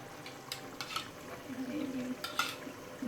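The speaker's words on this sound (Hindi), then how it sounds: "लेकिन इस पॉइंट पे हम 3 से 4 चम्मच दही के ऐड करेंगे।" Spoonfuls of yogurt stirred into minced meat frying in a pan for matar keema, giving soft sizzling with scraping spoon strokes against the pan and a few brighter clinks of the spoon.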